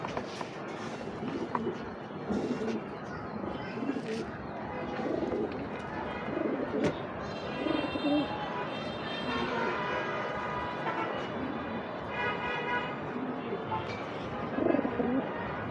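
Racing pigeons coo repeatedly at close range after a young hen is let loose among them, with other bird calls mixed in and a steady background murmur throughout.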